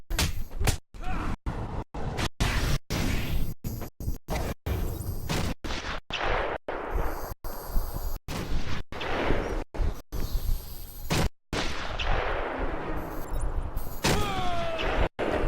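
Repeated sharp cracks of sniper rifle fire in the Batman: Arkham Asylum video game, sounding at irregular intervals over a dense rumbling game soundscape with no talking.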